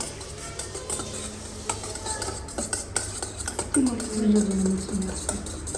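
Brownie batter being mixed: close scraping and clinking of a utensil against the jar in irregular strokes, with a short tonal squeak near the end and a voice speaking at times.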